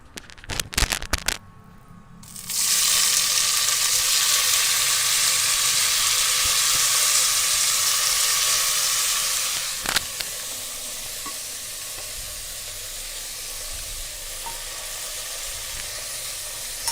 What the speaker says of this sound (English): So once this is crackling, the first thing that we'll be adding is tomatoes